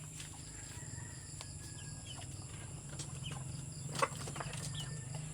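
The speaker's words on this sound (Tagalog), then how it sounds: "damo manok." Faint clucks and calls of chickens scattered over a steady low hum, with one brief sharper sound near the end.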